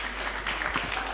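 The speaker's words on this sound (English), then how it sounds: "Yeah, let's clap." Brief burst of audience applause in a church gathering, a dense patter of many hands clapping at moderate level for about a second, with no talk over it.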